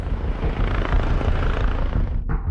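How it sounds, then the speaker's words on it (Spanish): Police helicopter flying overhead during a search, a steady, dense rotor and engine roar that holds constant throughout with no speech. "Se habilita un helicóptero de la policía para ayudar en la búsqueda."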